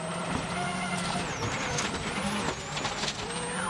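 A Citroen rally car driven by Dani Sordo at full commitment on a rutted Rally Poland 2009 stage, its engine note rising and falling with gear changes under a steady broadband roar, while faint commentary sits beneath.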